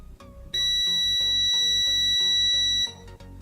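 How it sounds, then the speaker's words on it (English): A multimeter's continuity beep sounds for about two seconds while testing the power button of a JBL Partybox 100 speaker, a steady high tone with clicks and faint mechanical noise before and after. "you can hear a beep, if measured between two legs"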